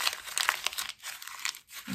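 Paper being crumpled into a ball to imitate amate bark, giving quiet, close crinkling and crackling bursts with brief pauses between them.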